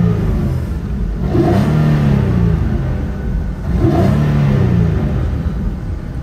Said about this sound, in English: Very, very quiet until, of course, you rev it up a little bit. So let's get a sound clip,